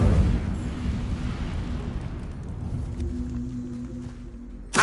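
The Incendio fire spell in Hogwarts Legacy erupts in a roaring, rumbling burst of flame that sustains as a dense, low rush for several seconds before a final short pop.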